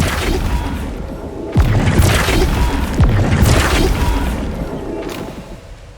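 Confringo spell blasts in the Hogwarts Legacy video game: two sharp, heavy booming explosions about a second and a half apart, each with a crashing, debris-filled tail, loud and close over a rumbling background.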